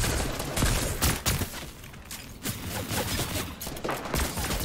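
Sniper fire in a Fortnite trio arena match: a dense stretch of loud gunfire with several sharp cracks over continuous game noise and rumble, with no clear talk.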